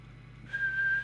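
A steady whistle test tone sounds from a tape deck being adjusted, starting abruptly halfway through and holding one clean pitch over a low hum.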